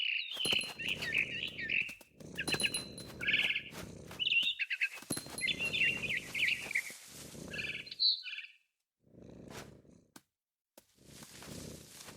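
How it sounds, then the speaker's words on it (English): High, bright barn swallow chirps and tweets in the game What Remains of Edith Finch recur in short bursts over a steady low rumble, with brief pauses between phrases. "Then I heard chirping outside my window. It was a barn swallow going back to her nest."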